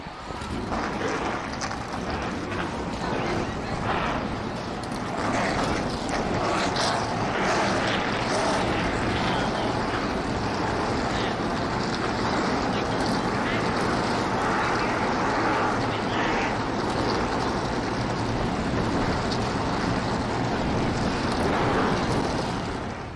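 Race car engines at Charlotte Motor Speedway for a shootout series event make a dense, loud, continuous roar that holds steady throughout, with possible faint talk beneath.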